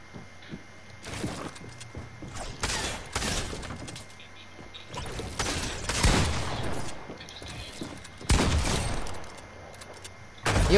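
Fortnite gunfire landing headshots, a series of close, sharp shots with bright cracking impacts scattered irregularly across about ten seconds.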